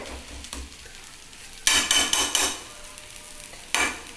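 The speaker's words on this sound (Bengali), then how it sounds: "এভাবে আমি বাটারটা এর মধ্যে মিশিয়ে দিচ্ছি" A spoon stirs butter into burger mixture in a pan, giving soft scraping strokes and a few louder clanks against the metal over a faint sizzle, with no talking.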